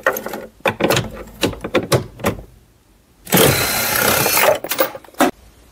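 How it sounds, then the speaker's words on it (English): Power tool taking out a 10 millimeter subwoofer bolt in a Lincoln MKX, with scattered clicks and knocks, then one loud whirring burst of about a second and a half, close by. "I'm going to remove this 10 millimeter bolt for the subwoofer."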